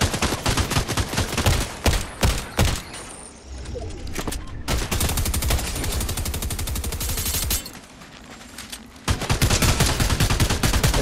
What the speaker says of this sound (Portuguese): Tem mais tiro pra lá, ó.